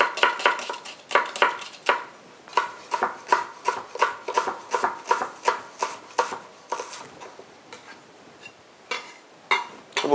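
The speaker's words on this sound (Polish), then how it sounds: "Potrzebujemy z pół cebulki, którą sobie pokroimy w drobną kostkę." A kitchen knife dices half an onion finely on a cutting board, making quick, evenly spaced chopping taps close by. The rhythm runs steadily for several seconds, pauses briefly, then resumes, with no talk.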